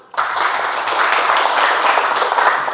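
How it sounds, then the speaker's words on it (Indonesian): Children in a classroom clap their hands together, a dense, steady burst of many small claps that starts abruptly and continues evenly at close range. "Tepuk tangan dulu."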